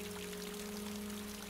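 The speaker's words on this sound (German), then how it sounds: "Während sie ausgiebig 20 Minuten duscht" A shower runs steadily as a continuous hiss of falling water, even and unbroken throughout, with a faint low hum underneath.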